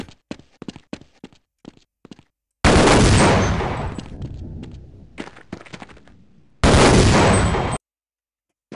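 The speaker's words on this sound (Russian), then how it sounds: "Я выстрелы слышу, но откуда они?" Gunfire in the Half-Life video game: a run of sharp single shots, then two long loud bursts of rapid automatic fire with a short gap between, each ending abruptly.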